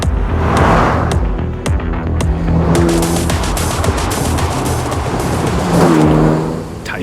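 A Lancia Delta Integrale, heavily modified, accelerates hard on a track, its engine loud and close with rising revs, gear changes and a brief tyre squeal, continuous and alone.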